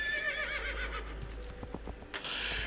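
Horse whinnying in Assassin's Creed 2, a fairly close neigh with hoof clatter over a steady dark, gloomy ambient game backdrop, with no talking.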